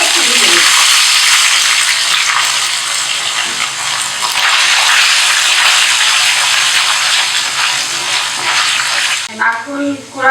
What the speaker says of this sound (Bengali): এবারে কুচনো নারকেলটা এর ভেতরে একটু ভেজে নেব।